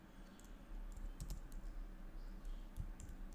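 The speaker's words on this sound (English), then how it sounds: "I will type node fetch" Fingers typing on a computer keyboard, a quiet run of soft key clicks in short irregular bursts over a low background hum.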